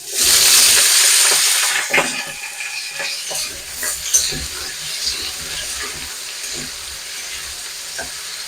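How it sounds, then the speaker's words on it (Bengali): Potatoes dropped into hot oil for a pea ghugni: a loud burst of sizzling that quickly settles into a softer steady frying crackle, with a few clatters of stirring close by. "তেলটা গরম হয়ে গেছে, এবার আমি আলুগুলো দিয়ে দেবো তেলের মধ্যে।"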